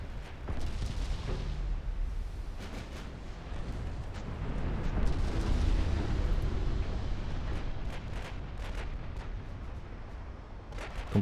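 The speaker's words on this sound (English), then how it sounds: "Which now also has her secondary guns join in. I want them firing AP." Warship secondary guns firing armour-piercing shells in a naval battle game, a continuous rumbling barrage of heavy booms and sharp cracks layered over one another, loud and steady for the whole stretch.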